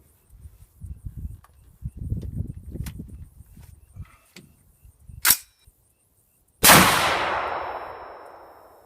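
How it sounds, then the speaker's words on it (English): An LWRC Six8 rifle fires 85 grain TSX rounds: after soft handling noises, a sharp metallic crack, then one loud close gunshot with a long ringing outdoor decay. "see if we can get 3 rounds of this 85 grain TSX through this gun"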